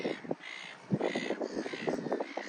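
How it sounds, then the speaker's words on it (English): Black-headed gulls give a few harsh, raspy calls in quick succession, close by and fairly clear in the open air of a nature reserve. "Black-headed gulls,"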